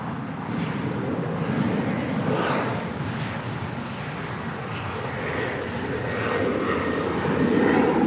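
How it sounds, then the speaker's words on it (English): An Alaska Airlines Boeing 737-900ER, six years old, takes off from LAX, its engines a loud, continuous broadband roar that holds steady and grows slightly stronger toward the end. "That is Alaska Airlines Flight 895 departing to Honolulu on a 6-year-old 737-900 ER"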